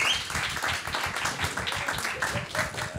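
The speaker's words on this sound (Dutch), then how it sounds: "Mag ik naar voren uitnodigen en jullie vragen een heel warm applaus te geven" A live Broadway-style show audience gives warm applause for Frank van Pamelen and Jan J. Pietersen, dense rhythmic clapping from many hands, close and sustained, with a few cheers and voices underneath.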